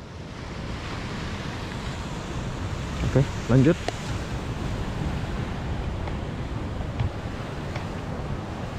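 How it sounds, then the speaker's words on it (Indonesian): Surf and wind at Pandawa Beach in Bali, a loud, steady wash of breaking waves with wind buffeting the microphone. A voice speaks briefly in the middle. "Jadi beginilah suasana Pantai Pandawa"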